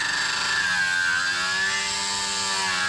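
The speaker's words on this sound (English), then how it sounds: "let's grind off all the adhesive from the window trim" An angle grinder whines steadily and loudly at close range as it strips adhesive off window trim on a Nissan Gloria under restoration, its pitch wavering slightly with pressure and no voices over it.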